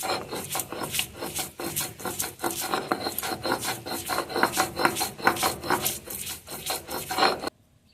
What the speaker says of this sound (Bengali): এখন মুসুরের ডালগুলো আমি শিলপাটায় বেটে নেব